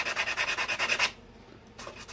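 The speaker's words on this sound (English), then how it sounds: "A lot of sanding." Rapid rhythmic sanding strokes rasp back and forth for about a second, then stop, followed by quieter scraping.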